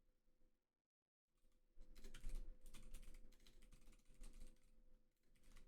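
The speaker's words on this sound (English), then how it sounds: "maybe I'm not getting better at typing with 9 fingers" Rapid typing on a computer keyboard during programming work, a faint, dense patter of key clicks that starts after a brief silence and continues steadily with no voices.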